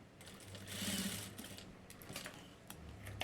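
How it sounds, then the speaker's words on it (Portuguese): A sewing machine runs a short burst of safety-seam stitching, a rapid mechanical whirr lasting about a second, followed by quieter clicks and handling noises, close and fairly soft. "passo uma costura de segurança"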